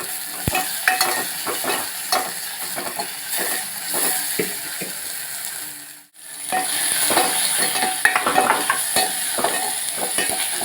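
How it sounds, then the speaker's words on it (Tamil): Tomatoes sizzle and crackle loudly in a hot pan while a utensil stirs them, with scraping taps throughout and a brief lull midway. "அது வதங்கிருச்சு இப்போ அந்த நறுக்கி வச்சுருக்கிற தக்காளி பழத்தை போட்டுறேன்"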